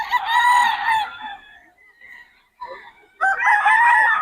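A black cross gamefowl rooster at the Bocaue tiangge market crows loudly and close by. A long crow is followed by a brief pause, then a second crow begins.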